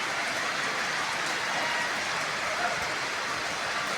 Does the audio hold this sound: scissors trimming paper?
no